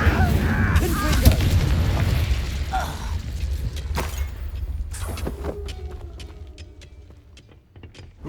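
Confringo, a fiery blast spell cast in Hogwarts Legacy, erupts as a loud booming burst of explosions and crackling impacts early on, then fades into scattered clanks and a lower rumble.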